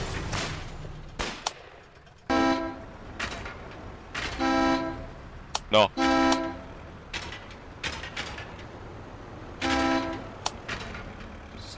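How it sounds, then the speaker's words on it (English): Repeated short honks from a vehicle horn in the war game Foxhole blare in bursts against quiet background noise, some closer together. A brief spoken word comes early. "Stop honking the horn."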